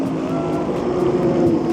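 A Ferrari race car at the 24 Hours of Le Mans sweeps past in a brief, loud, sustained engine roar with a steady high tone, heard from trackside.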